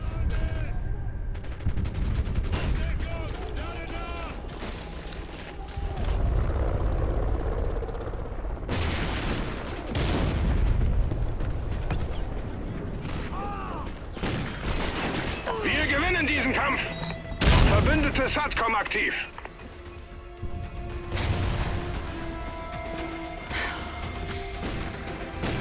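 Revolver shots ring out in the Call of Duty: Ghosts video game on Xbox 360, loud bursts of gunfire and explosive booms mixed with other weapons in a chaotic firefight, with a player talking over the action.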